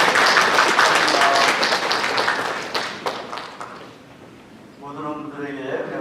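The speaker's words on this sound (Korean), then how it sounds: "박수로 환영하겠습니다." Church congregation clapping in welcome for a visiting couple, a dense loud round of applause that fades after a few seconds, followed by someone speaking.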